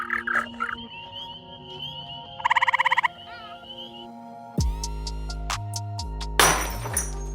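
Captive eastern gray tree frogs call with a loud, rapid pulsed trill up close, alongside scattered clicks, clinks and sharp knocks, with a noisy burst near the end.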